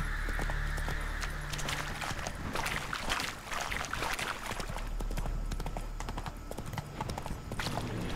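Horse hooves clip-clop in a steady trotting rhythm in the video game Witcher 3, close and continuous, with game ambience underneath and little talk.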